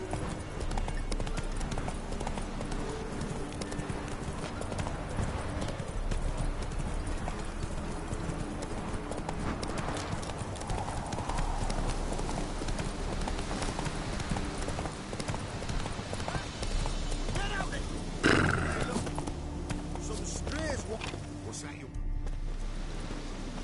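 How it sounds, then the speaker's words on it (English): Horse galloping in the video game The Witcher 3: a continuous fast clip-clop of hooves over ambient game sound, with a brief louder thump partway through. "Whoa there, Roach."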